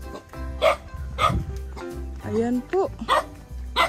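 A dog barks several times outdoors, sharp yips and short barks spaced irregularly and mixed with people speaking nearby.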